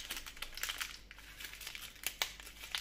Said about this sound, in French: Pour changer, je vais ouvrir celui de Juliette d'abord